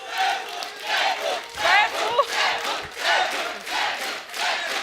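A studio audience at The Kapil Sharma Show cheers and chants in loud, rhythmic bursts. The crowd voices rise and fall in a repeated pulsing pattern, close and energetic.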